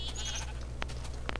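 A Minecraft sheep gives a few short, nasal bleats in a tropical-themed modded world, heard close over a low steady hum, with a couple of faint clicks afterward and no voices.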